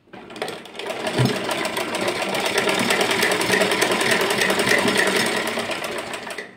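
A sewing machine stitches a small summer dress for a Laddu Gopal doll, running in one steady continuous burst from start to finish after a brief pause at the opening.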